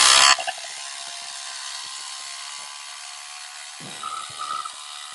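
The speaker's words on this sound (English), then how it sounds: "Just using my electric ratchet right now." Electric ratchet spinning off the 1/2-inch and 9/16 nuts on a sway bar link under a 1967 Lincoln: a loud whirring burst at the start, then a steady buzzing mechanical drone with a brief clicking flurry near the end.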